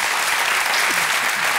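Studio audience applause on a French talk show, a dense steady wash of clapping close and loud for the whole short stretch, with no voices on top.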